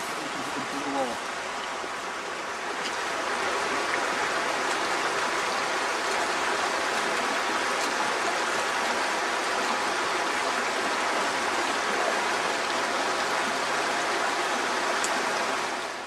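The Border Esk, a low spate river, flows with a steady broadband rush of running water that holds constant throughout and sits close and fairly loud, with no talking.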